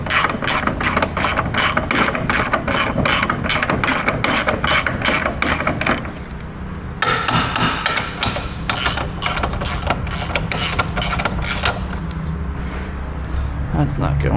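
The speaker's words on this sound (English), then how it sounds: "Start these a little bit at least, just so we don't put a bunch of pressure on these bolts and mess anything up." Ratchet wrench tightening bolts on a Honda Civic: a fast, steady run of close, loud clicks for several seconds, a brief pause, then more clicking that gradually thins out.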